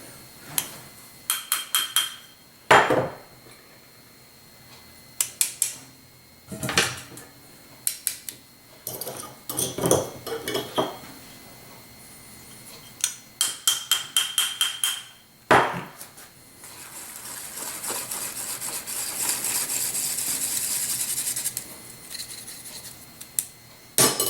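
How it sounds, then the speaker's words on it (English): A small hand sifter works dry ingredients for a custard pie: bursts of scratchy tapping and rattling come in uneven clusters, then settle into a steady, close, hissing rustle toward the end. "I prefer to use a small sifter, just like this one right here."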